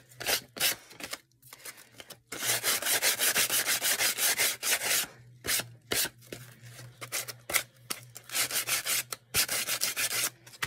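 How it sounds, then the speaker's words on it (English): Sandpaper rubbed along the edge of a puzzle piece, close and crisp, in bursts of rapid back-and-forth scratchy strokes separated by brief pauses. "first I'm going to take sandpaper and run it along the edge of this"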